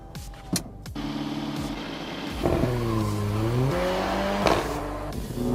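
A Volkswagen accelerating hard on a test track, the engine note climbing steeply through the gears with shift dips between pulls, loud and heard from inside the car.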